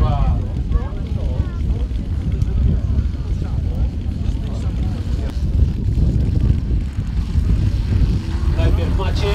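Three model airplanes at a model aviation picnic take off together, their engines and propellers droning in a continuous, fairly loud buzz with buffeting wind noise, while people talk throughout.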